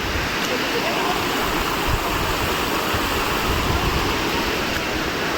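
Steady, loud rushing of Umbarde Waterfall near Nashik in monsoon fills the scene without a break, a dense broadband roar close by with no other sounds standing out.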